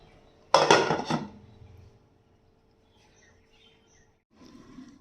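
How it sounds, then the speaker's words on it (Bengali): A lid clanks down onto a metal pot of papaya mutton curry: one sharp, loud clatter with a brief ringing tail, then near silence, and a faint rustle at the end. "আবার একটু ঢাকা দিয়ে দেবো 2 মিনিটের জন্য।"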